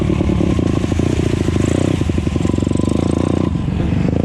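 A 150cc dirt bike engine, either a YCF SP3 or a Honda CRF150R, roars loud and close with a continuous, rapidly pulsing buzz and slight rises in revs while riding.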